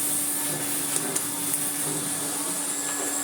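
A brown AEG Compact Electronic 406 vacuum cleaner runs at a constant loud whine with a steady motor hum, close by and uninterrupted, with a few faint clicks over the drone.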